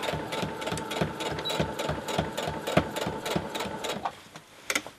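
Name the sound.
sewing machine stitching over jeans pocket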